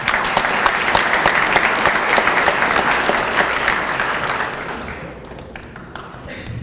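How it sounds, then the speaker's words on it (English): An audience at a donors reception applauds steadily, with dense, even clapping that holds for several seconds and then thins toward the end. "so let's give them a round of applause"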